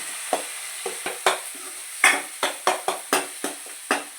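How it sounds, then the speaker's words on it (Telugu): Onions and tomatoes frying in a pan for Andhra-style chicken curry, with a soft sizzle under a series of about a dozen sharp, evenly spaced stirring scrapes, close and fairly loud. "ఇప్పుడు ఆనియన్స్, టమాటా వేగిందండి"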